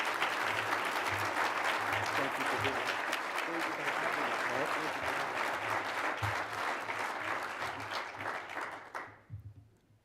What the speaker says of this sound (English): let's give him a round of applause, if you will